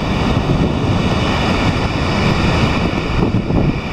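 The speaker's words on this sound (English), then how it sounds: "See some of those waves there." Constant roaring wash of rough, stormy sea surf at Porthleven, with heavy wind buffeting the microphone, a dense, unbroken rumble throughout.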